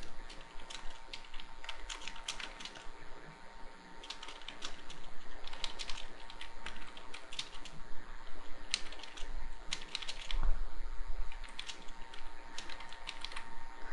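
Steady typing on a computer keyboard, a continuous stream of close, quiet key clicks with brief pauses, no voices.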